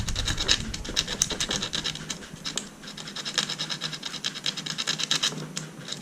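Sandpaper scrubbing rapidly back and forth on a magnetic part while an HP x360 convertible laptop is being taken apart, close and fairly quiet, a dense series of rasping strokes with no talking.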